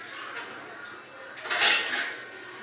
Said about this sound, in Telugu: ఈ ప్లేట్లు వేస్తున్నాను